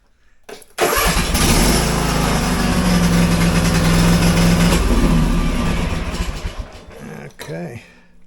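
A Cub Cadet riding mower engine running on a lithium battery cranks briefly and catches, settling into a steady, loud, close running drone for several seconds before easing off near the end.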